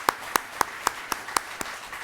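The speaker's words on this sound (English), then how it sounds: "Can we all give a round of applause to Tom again?" A single person's slow, evenly spaced hand claps at a church service, about seven distinct claps in a steady rhythm, close and moderately loud over quiet room tone.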